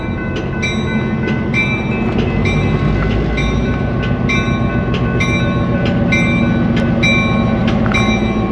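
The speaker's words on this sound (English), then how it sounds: "Train's leaving for Lamy," A train rolls past in a rail yard near Santa Fe, New Mexico, with a steady, loud, close rumble and a regular clickety-clack of wheels over rail joints that continues throughout.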